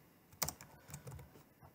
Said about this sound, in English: Just keep on typing.